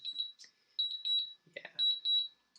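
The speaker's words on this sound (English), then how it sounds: "Sorry, it's a really loud beep." A DJI Mavic Pro drone's landing warning sounds as rapid high-pitched electronic beeps in short bursts, briefly interrupted by a voice speaking, then the beeping resumes.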